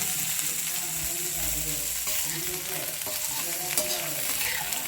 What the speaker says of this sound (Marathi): टोमॅटोला परतून घ्यायचं।